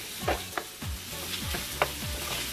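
Minced sausage frying in a pan, a steady sizzle with repeated scraping stirs as the meat is broken up, close and fairly quiet with no talk.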